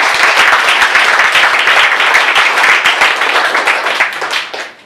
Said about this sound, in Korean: 감사의 표시를 큰 박수로 우리